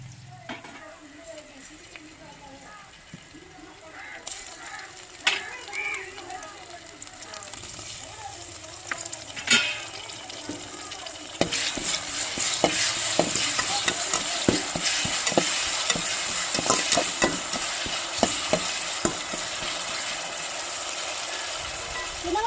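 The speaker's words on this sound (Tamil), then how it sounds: "நல்லா வெங்காயம்லாம் வதங்கி வரட்டும் நல்லா வதங்கி வந்துருச்சு நம்ம இஞ்சி பேஸ்ட்டையும் தக்காளியும் சேர்த்துக்கிறோங்க" Onion, ginger paste and tomato sauté in a hot pan for a beef gravy, a steady sizzle that grows louder midway with scattered stirring scrapes and clatters close by.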